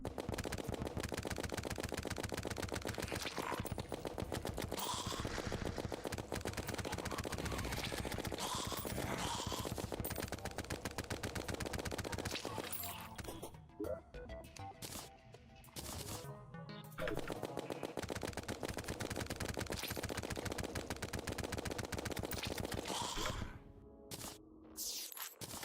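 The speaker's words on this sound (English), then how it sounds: "That's so expensive to use the star cannon." Star cannon firing in Terraria Master Mode, a rapid, loud stream of repeated shots that runs continuously, drops away briefly midway, resumes, then cuts out near the end.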